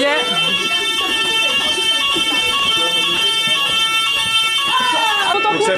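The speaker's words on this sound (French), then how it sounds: "L'alarme incendie" A loud, continuous electronic fire alarm tone rings steadily throughout in a French high school, with faint voices and movement underneath.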